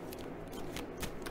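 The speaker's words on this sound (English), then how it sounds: "So let's just quickly shuffle for Scorpio." Tarot cards being shuffled by hand in a quick, close burst of papery riffling and slapping strokes, with several brief flurries and no talking.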